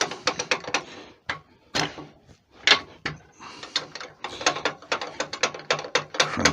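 Repeated ratcheting clicks of a lathe mechanism being cranked in while turning an antler lady's pen, arriving in quick close bursts with short pauses, loud and near.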